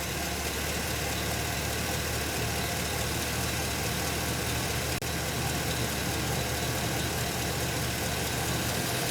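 A Chevy Express van engine idles steadily in a close, even drone, with a faint click partway through as the evap purge solenoid opens, and no clear change in pitch.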